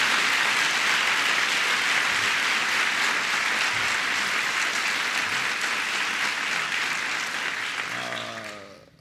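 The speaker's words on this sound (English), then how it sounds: "So please give Kathleen Sebelius a big round of applause." An audience at NIH applauds Kathleen Sebelius with sustained, loud, dense clapping that fills the room steadily and fades out near the end as a voice begins.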